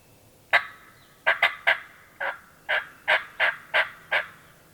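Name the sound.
wild turkey gobbling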